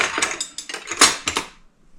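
Metal silverware and measuring spoons clatter and jangle together in a series of quick bright rattles as a kitchen drawer is tidied, close up, then falling quiet at the end.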